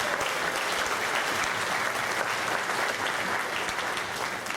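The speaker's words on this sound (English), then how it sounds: "How about a nice round of applause for Mark, everybody." Audience applause for an honoree at a Hall of Fame induction ceremony, a full, even roar of many hands clapping at once, sustained and fairly loud throughout.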